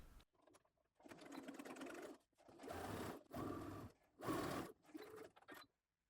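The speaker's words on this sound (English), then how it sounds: "sew across the top at 1/2 inch or 13mm" A sewing machine stitches across the top of a dress seam in several bursts of steady rapid whirring, each lasting about a second, separated by short pauses, close and clear with no talk.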